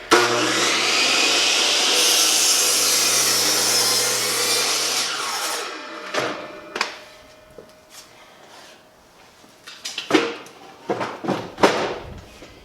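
A power saw cuts through lumber for a budget DIY garden bench, a loud steady whine for about six seconds, then spins down into scattered knocks, scrapes and handling clatter of the wood.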